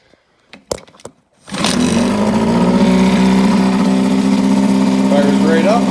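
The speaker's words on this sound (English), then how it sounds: "Fires right up. Pumping lots of water through the exhaust." A 1962 Mercury 6 HP outboard motor starts after a few brief clicks and pulls, then runs with a steady, loud, close idle drone that keeps going without a break.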